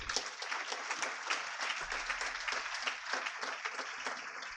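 Applause from an audience opening the 20th International Conference, PICOM 2025, at PIMR Indore: steady, dense clapping filling the room throughout, fairly loud and continuous with no talk over it.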